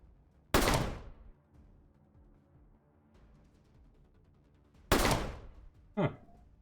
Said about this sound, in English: But this is an aimed shot.